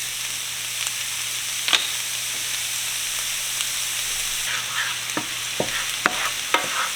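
Chopped celery and carrots sizzle steadily in a pot for duck soup, with occasional scrapes and taps of a spoon stirring them.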